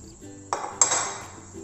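Home-made kadala mittayi peanut bar being cut into pieces on a flat plate: two sharp, crisp knocks and clinks of a blade against the plate, close and clear in a quiet room.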